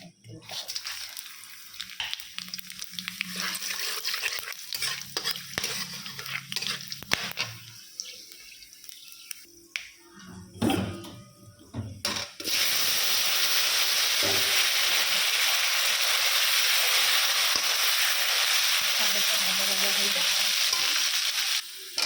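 Cumin, garam masala and bay leaf frying in hot oil, a loud steady sizzle that jumps in and fills the second half after quieter stirring and clatter, with brief talk early on.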